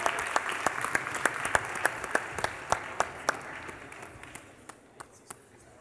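An audience at an amateur competition evening applauds, a crowd of hands clapping steadily and then tapering off, with a few louder individual claps standing out at a regular beat near the end.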